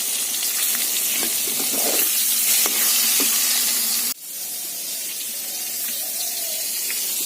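Potatoes drop into a curry sizzling over a wood fire, giving a steady, loud frying hiss with a sharp splash-like change partway through, after which the sizzle settles slightly quieter.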